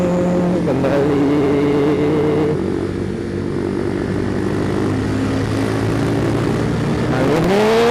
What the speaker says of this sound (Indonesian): Kali ini gua naik motor ZD 150R yang all new special edition.